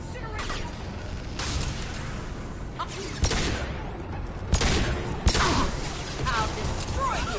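Weapons fire in the video game Mass Effect 2 keeps up a dense, continuous barrage with several sharper blasts standing out, loud and close, with voices speaking intermittently over the combat.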